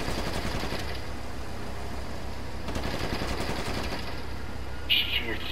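Rapid automatic gunfire from the video game GTA V rattles in bursts during a store robbery, at a moderate, steady level with a sharp burst near the end. Voices talk over it.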